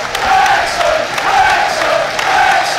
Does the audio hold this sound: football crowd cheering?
yes